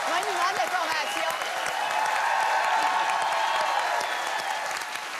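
An audience applauds steadily at a TV network's 50th-anniversary celebration, a dense, sustained clapping that fills the room evenly from start to finish.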